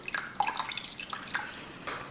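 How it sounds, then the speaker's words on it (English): Water poured into a bowl of rice flour and mixed, faint close trickling and splashing drips with soft stirring, quiet and without talking. "I'll go in with 500 mils of water, and I'll just kind of let that mix and then stir it all together"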